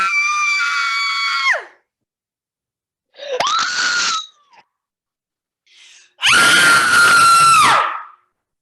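A person screams three times: a long sustained shriek, then a shorter one, then another long loud one, each separated by silence. The screams are close and strained, and nothing else is heard.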